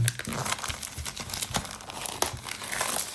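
Plastic shrink wrap crinkles and tears as it is pulled off a manga volume, close up and continuous with repeated crackling rustles, while someone talks over it.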